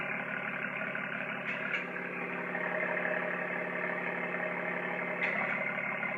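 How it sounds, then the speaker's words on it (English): A 2019 BMW M2 exhaust idles steadily with a deep, even burble, briefly rising twice in a short hiss-like blip. "That sounds really, really good. It does. And this is a proper exhaust"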